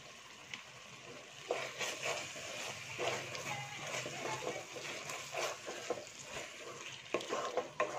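Red rice being stirred and mixed in a frying pan, with repeated scraping spoon strokes over a soft continuous sizzle, fairly quiet and close, with no talking.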